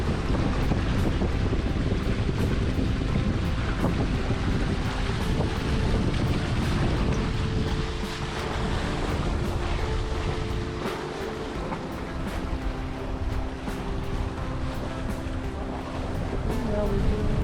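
Strong, steady wind roars across the microphone on a sailboat near Mission Point Peninsula, with rushing water and waves beneath, loud and continuous throughout.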